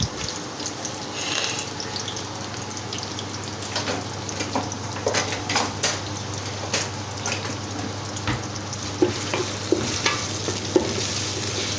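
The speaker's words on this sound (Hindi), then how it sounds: "इसमें 1 प्याज मैं डालूँगी, बड़े साइज़ का जो इसमें मैं प्याज ऐड कर रही हूँ" Large onion frying in melted ghee in a pot, a steady loud sizzle with scattered scraping and stirring clatter throughout, no voices.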